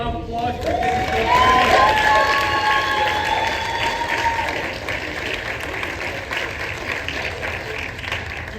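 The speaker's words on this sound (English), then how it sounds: "Let's give Angel a big round of applause" A school crowd gives a round of applause to a student named Angel, dense continuous clapping with some cheering, swelling early then easing off, with voices and a tonal sound layered in.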